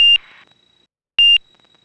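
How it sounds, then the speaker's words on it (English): An angle-of-attack warning in a Garmin G3X-equipped aircraft cockpit sounds as two loud, sharp electronic beeps about a second apart, each with a brief tonal tail. "Why don't I speed up to turn off the beeps?"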